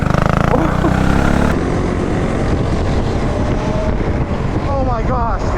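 A go-kart with a Predator 212cc engine roars loudly at close range, its pitch dropping and then climbing again while it rides on a track. Excited voices shout over the engine noise.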